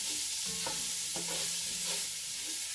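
Two onions and garlic frying in a pan, a steady hiss of sizzling oil with a few soft clinks of a utensil stirring against the pan.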